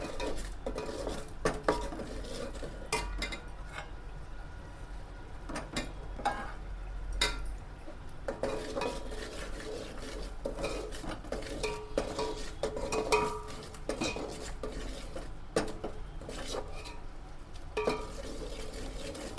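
Chopped onions are mixed through oil in a pan for a mutton curry: a spoon clinks and scrapes against the metal in quick, irregular strokes over a faint frying hiss, heard close with no voices.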